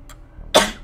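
A single short, sharp sneeze bursts out close by, a sudden breathy blast after a quiet stretch of faint room sound, trailing off quickly.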